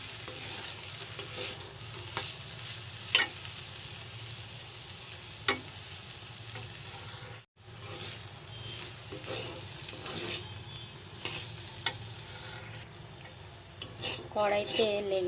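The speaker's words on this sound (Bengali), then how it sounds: "এটাকে ভেজে নেব। আবারও এটাকে নেড়ে মিশিয়ে নেব।" Sliced radish fries in a pan with a constant soft sizzle, while a spatula scrapes and stirs it in irregular clicks and scrapes, close and fairly quiet throughout.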